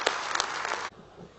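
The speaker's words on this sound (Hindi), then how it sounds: "मैं चाहता हूं एक बार इसके लिए दोनों हाथ उठाकर जोरदार तालियां बजाकर इसका स्वागत करें।" A dense burst of audience applause at a Hindi poetry recitation, loud and steady for under a second before cutting off abruptly to quiet room tone.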